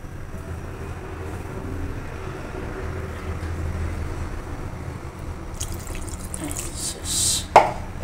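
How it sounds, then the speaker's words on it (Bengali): Water is poured into a cooking pot for a fish and eggplant curry, a steady, moderately loud watery trickle over background noise, ending with a brief clink. "আর একটু পানি দেব।"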